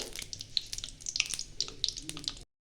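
Two dried red chillies and two bay leaves crackle and sizzle in hot oil in a pan, a busy, steady spitting with sharp pops throughout, close and fairly loud, ending abruptly.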